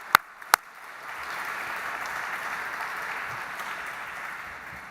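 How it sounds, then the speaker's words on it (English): Audience applause at an Auschwitz exhibition opening evening, a soft, steady wash of clapping heard from a distance after two sharp taps, with no talking. "another big round of applause"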